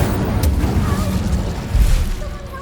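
Casting of the Incendio fire spell in Hogwarts Legacy, a pair of loud whooshing bursts with low rumbling booms amid ongoing combat noise.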